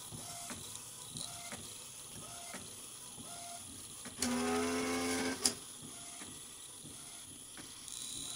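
A home photo printer runs through a print job, with soft periodic mechanical clicks and paper-feed ticks leading into a louder burst of whirring, ratcheting motor noise and a sharp clunk, then quieter clicking again.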